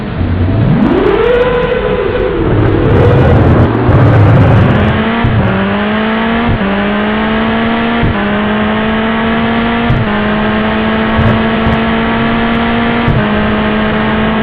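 Kart racing engines drone loudly in a Mario Kart 8 race, a steady buzzing whine that rises, dips and re-rises with each gear shift, continuous and near.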